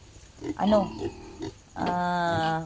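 Piglets on an unlimited auto feeder grunt and squeal close by, a few short snorting grunts followed by a longer, harsh sustained squeal at the end.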